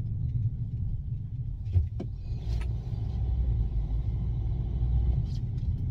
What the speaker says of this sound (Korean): 이 엑셀 밟는 느낌도 그렇고, 차가 치고 나가는 것도 그렇고